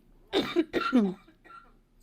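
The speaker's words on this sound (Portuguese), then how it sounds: "Desculpa aí a minha tosse aí." Two loud, close coughs in quick succession from an adult, followed by a faint throat-clearing noise in an otherwise quiet room.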